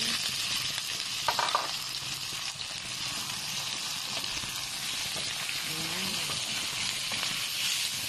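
Shrimp frying in a pan for buttered lemon shrimp: a steady, close, bright sizzle that crackles and hisses throughout, with a brief clink or stir partway through.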